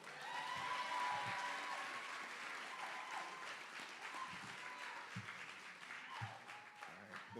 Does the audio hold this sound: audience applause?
yes